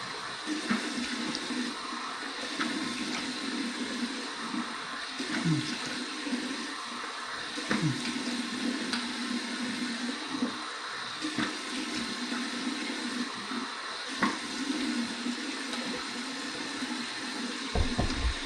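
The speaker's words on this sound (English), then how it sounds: "Hey, let me rinse. Warm water rinse." Warm tap water runs continuously during a shave with a K2 twin handle razor, a steady moderate splashing flow with small shifts in tone and no talk over it.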